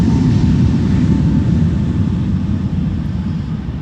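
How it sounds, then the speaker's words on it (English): KLM airliner on its takeoff roll from Schiphol's Polderbaan runway, a loud, close, deep rumbling roar that eases slightly toward the end, with no voices. "So this is KLM Flight 1031 to Persenchester"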